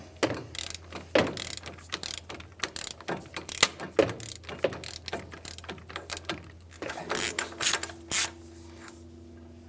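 A ratchet clicks in bursts of quick pawl ticks with short pauses while working a 35mm axle nut on a 2007-2015 Mazda CX-9 during a suspension knuckle replacement, close and clear.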